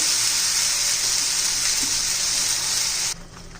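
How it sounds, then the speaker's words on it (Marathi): Ground masala for raw banana bhaji sautéing in oil, a loud, continuous hissing sizzle that stops abruptly near the end, leaving quiet. "आणि आपण जे वाटण केलंय ना ते तेल सुटेपर्यंत परतून घ्यायचे"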